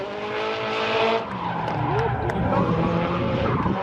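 A BMW drifts at a Montana Highlands drifting event, its engine roaring steadily while the tires squeal and skid across the surface, loud and continuous, with faint voices underneath.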